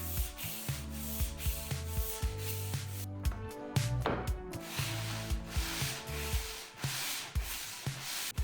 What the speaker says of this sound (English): The plywood was smooth enough already, so I just needed to use 220 grit sandpaper.